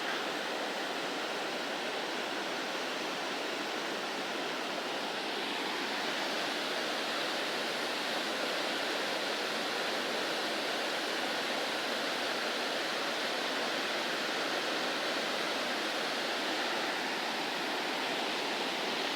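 Water rushes in a steady, continuous roar, like a fast-flowing river heard close by on New Zealand's Routeburn Track, with no pauses or other sounds.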